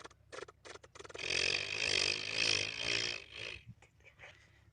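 A boy imitates a tractor engine using his voice: sputtering bursts first, then a sustained throaty rumble lasting about two seconds, and finally a few faint chugs, all close and fairly quiet.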